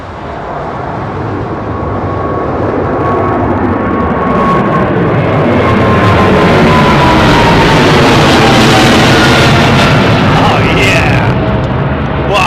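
An airliner taking off from runway 09R at London Heathrow, a loud, steadily building jet engine roar that swells and sustains close by, with a rumbling low end and a whining tone sweeping through it.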